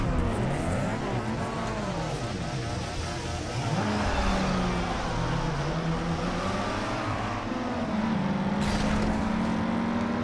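Car engine in Need for Speed Underground 2 revving and whining through a drift, tyre squeal and engine pitch sweeping up and down, loud and continuous throughout.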